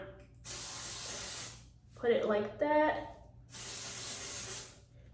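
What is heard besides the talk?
glue spray being sprayed on hair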